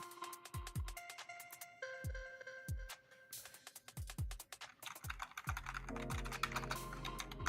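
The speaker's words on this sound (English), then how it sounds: "I'm just typing stuff in that we can pull up here." Rapid clatter of computer keyboard keys being typed on, a steady run of crisp close clicks and key strikes with brief pauses, with no talking over it.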